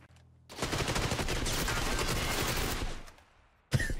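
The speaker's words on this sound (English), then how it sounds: "He was just lighting up the wall trying to shoot me." Sustained automatic gunfire rakes a wall in the video game PUBG, a dense rattling burst lasting about two and a half seconds, then tapering off before a brief sharp sound at the end.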